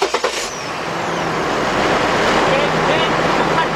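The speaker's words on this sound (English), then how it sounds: "start this vehicle up" A vehicle engine cranks with a few quick pulses, then catches and settles into a loud, steady, close rumbling idle with a broad rushing hiss.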